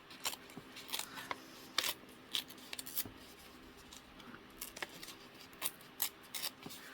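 Scissors snip through a vintage paper image in short irregular cuts, close and quiet, with small rustles between them.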